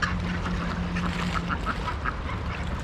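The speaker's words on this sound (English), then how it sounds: "I love ducks. I love the way they sound." Ducks quack in a cluster of short repeated calls near a waterside spot around Asheville or Black Mountain, North Carolina, rising over a steady outdoor background hum.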